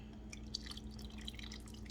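Sauce poured from a pan over chicken in a kitchen, a close, quiet trickle with soft drips and splashes running throughout, no speech.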